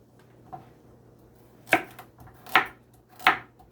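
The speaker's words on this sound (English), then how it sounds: "This is the carrots I'm cutting." Carrots being cut for a Jamaican Saturday soup: three sharp, close knife chops on a board at an even pace, after one faint earlier tap.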